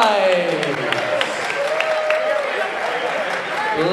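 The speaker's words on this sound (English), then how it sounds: "one more round of applause for your National Squash League champions, the New York" A crowd applauds the National Squash League champions, the New York Knights, at a finals trophy presentation: dense, continuous clapping that holds steady and loud for the whole stretch, with a voice faintly over it.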